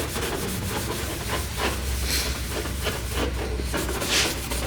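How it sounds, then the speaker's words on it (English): Sanding scuffs a Yamaha Warrior 350 ATV plastic panel down to clean plastic, making steady close scratchy rubbing strokes that repeat continuously. "scuff it all the way down to your plastic, your clean plastic"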